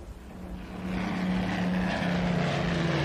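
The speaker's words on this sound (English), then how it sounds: "2 planes dived to mast height, flying across our bows, firing their cannons." WWII German warplanes dive to attack in a radio drama, a continuous droning propeller-engine roar that swells and holds loud with a wavering pitch, no voices.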